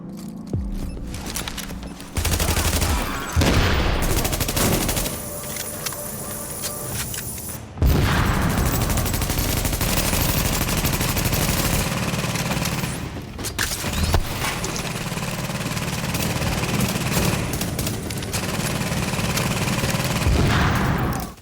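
Sustained bursts of rapid gunfire and booms in the video game Tom Clancy's The Division, with dense action noise, loud and continuous throughout.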